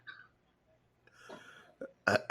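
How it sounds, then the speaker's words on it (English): A person forces out a burp on request during a casual conversation: a few quiet throaty noises, then a short, loud, rough burst near the end. "You got another one burp for us"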